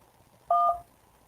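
Telephone keypad tones from pressing a menu option on an automated phone line: a single short, clean two-tone beep, loud and alone against near silence.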